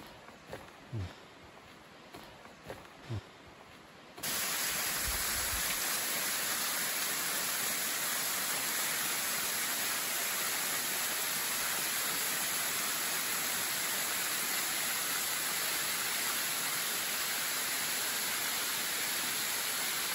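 After a few quiet seconds with light knocks, the waterfall at Cirque du Fer-à-Cheval in Haute-Savoie comes in as a loud, steady, unbroken roar of rushing water.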